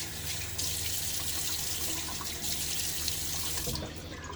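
A sink tap runs steadily for about four seconds as water is splashed onto the face before a wet shave, a close, continuous rushing stream with slight changes in flow and no talking.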